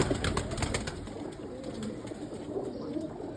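Pigeons cooing in soft, repeated low calls, fairly faint against a light background hum, with no one talking.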